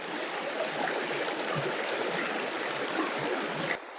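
Water from a stream runs steadily through a check dam deep in a dense forest, a broad, continuous rushing hiss at moderate level that carries on unbroken before dropping off sharply near the end.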